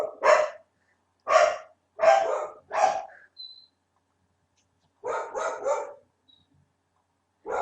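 Dogs bark loudly and close by, first in four spaced single barks and then in a quick burst of three, with near silence between them.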